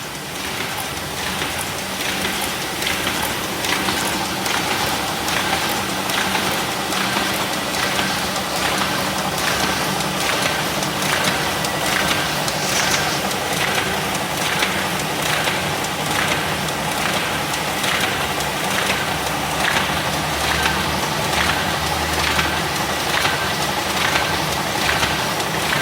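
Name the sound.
SHOEI SPK 74 Combi 16 page paper folding machine running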